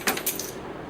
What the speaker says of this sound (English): Damn, I dropped the keys.